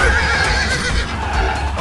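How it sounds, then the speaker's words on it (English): A horse in a video game gives a loud whinny over busy game background noise and faint hoofbeats, lasting under two seconds. "A horse!"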